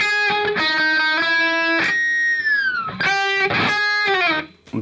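A distorted electric guitar plays a short section of the solo, quick picked note runs broken by a long sustained bend that slides down in pitch before more fast notes.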